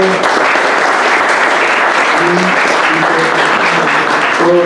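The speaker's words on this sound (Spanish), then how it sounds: "les pido un aplauso por favor para nuestro invitado" Conference audience giving a guest speaker a loud, dense round of applause, sustained and close, with a few voices faintly mixed in.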